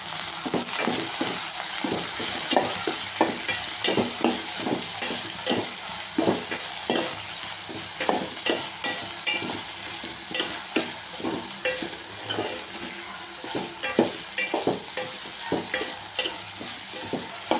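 Capsicum masala with salt and turmeric stirred in a hot pan, a continuous sizzle overlaid by a steady rhythm of spoon scrapes and knocks against the vessel, close and fairly loud.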